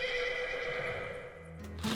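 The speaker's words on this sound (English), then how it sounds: "so I suppose it's time to summon the Senti horse" A horse neighs in a loud, drawn-out whinny summoned into a game, followed by a brief clatter of hoof-like clip-clop near the end.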